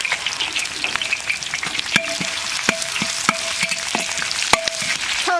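Scallion, ginger, dried chilies, Sichuan peppercorns, star anise and cinnamon bark fry in hot oil in a wok, giving a close, continuous sizzle broken by sharp, repeated knocks of a utensil against the pan.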